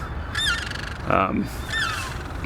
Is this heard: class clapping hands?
no